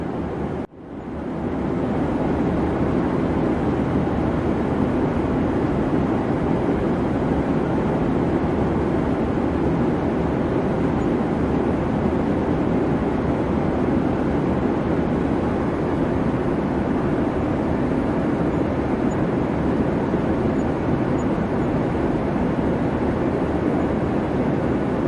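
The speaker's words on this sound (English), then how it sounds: "We will be taxiing for a few minutes." Steady, loud airliner cabin roar while taxiing on a flight from New York to Frankfurt, a constant broad engine and air hum that rises in the first second and then holds unchanged throughout.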